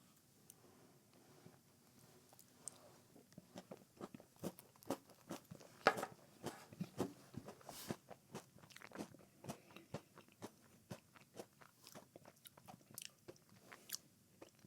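Someone bites into and chews a Dairy Queen Oreo Snowdrift Blizzard very close up, giving soft wet crunches and scattered sharp clicks and scrapes in an irregular rhythm against a quiet background, with no talking.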